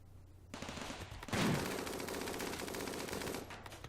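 RimWorld colonists fire guns in a sustained burst of rapid, machine-gun-like shots with a heavier impact near the start, loud and continuous for about three seconds before cutting off.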